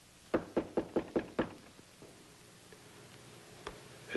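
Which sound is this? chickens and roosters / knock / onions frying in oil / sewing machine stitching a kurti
knock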